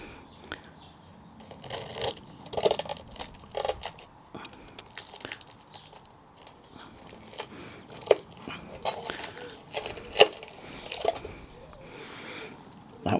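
Crunchy bites into a crispy experimental camping meal, a run of sharp close crackles and snaps with louder crunches near the middle and end, over soft outdoor rustling and no talk.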